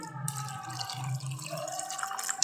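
Water trickles and drips into a bowl of cashews and raisins, set to soak in a home kitchen, a soft steady pour heard close and alone.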